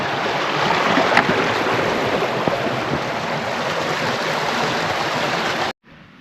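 A river crossing on the fells near Dufton Pike and Knock Pike, with a stream rushing steadily and loudly close by, a broad continuous wash of water that cuts off abruptly near the end.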